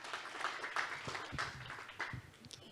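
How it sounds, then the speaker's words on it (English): A conference audience at an afternoon session of an innovation summit applauds a speaker being welcomed to the stage, a steady patter of many hands clapping at moderate distance for a few seconds. "Can we get a round of applause for Professor Fatima?"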